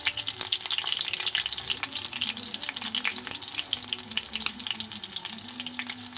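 Fish frying in oil with cumin seeds tempered in, for a Bengali foli fish curry; a steady close sizzle with light crackle runs throughout, with no talk.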